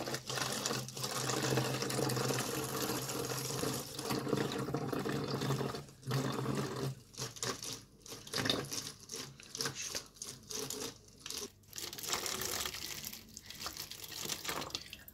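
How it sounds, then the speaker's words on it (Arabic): Warm water is poured from a plastic bottle into batter for Moroccan baghrir, a pumpkin crepe, giving a steady close splashing stream that breaks into choppier gurgles toward the end, with no talk. "غادي نضيف هذيك الكميه ديال الماء بطبيعه الحال بعد ما نكون سخنتها، يعني يكون ماء دافئ"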